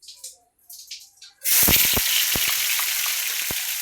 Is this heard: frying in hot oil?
yes